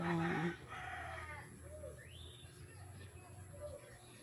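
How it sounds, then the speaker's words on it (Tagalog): Farmyard chickens, including roosters that often fight, give scattered clucks and a short rising call. A louder noisy burst opens the clip, and a steady outdoor background hum runs underneath. "Ito yung manok na laging nag-aaway"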